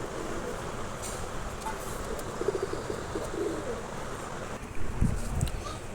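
Local pigeons coo softly at a bird sale, with faint, low calls over background traffic and outdoor noise.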